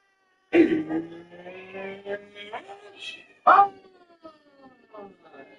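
A voice imitates a cat meowing, with drawn-out, wavering meow-like calls in two bursts, close and fairly loud, over a quiet background.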